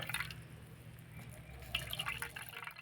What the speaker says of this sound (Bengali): এবার আমি ছানাটাকে ভালো করে জলটা নিগড়ে নেব